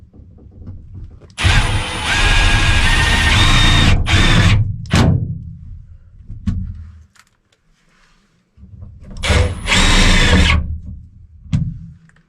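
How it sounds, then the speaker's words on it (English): A power drill drives short self-tapping screws into a truck while a DC-DC charger is installed, giving two loud, sustained whirring bursts of a few seconds each with brief knocks between them and no talking. "Using some short self-tapping screws."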